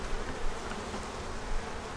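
Honey bees buzzing thickly at a hive entrance, a steady close drone of many wings with slight swells in loudness and no voices.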